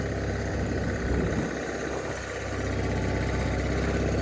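A John Deere 420 tractor engine runs steadily nearby with a low, rumbling idle and slight vibration, continuous throughout with no talking.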